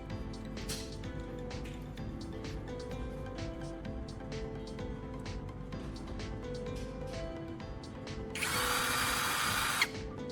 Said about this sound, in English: I'm now inserting the carbon rod into my drill.